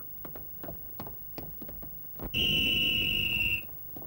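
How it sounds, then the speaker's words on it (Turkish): A single sharp, shrill whistle blast held steadily for just over a second, loud and close, following some scattered knocks and shuffling. "Düdük çalıyor mu diye baktım da, çalıyormuş."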